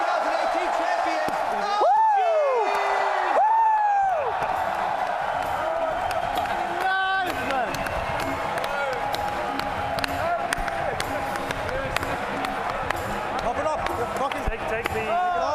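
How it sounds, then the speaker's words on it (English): Arena crowd at The International 2018 Dota 2 championship cheering and applauding the champions, team OG, a dense sustained roar with whoops and bursts of excitement, loud and steady across the whole stretch. "please give the biggest round of applause to your TI"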